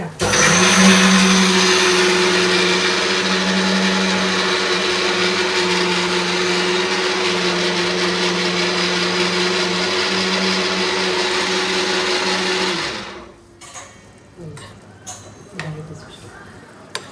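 A kitchen mixer grinder whirs loudly and steadily for about twelve seconds, then shuts off, leaving quiet room sounds and a few small clatters.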